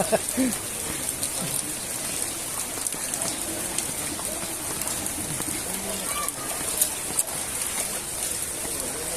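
Heavy rain pours steadily onto a flooded street as floodwater rushes along like a river, a dense continuous wash with occasional splashes, and voices talk over it.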